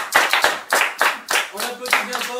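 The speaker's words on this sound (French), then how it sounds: "On applaudit bien fort." Studio audience clapping on a parody TV quiz show, a string of bright bursts of applause that come and go in waves, with a voice speaking over the later part.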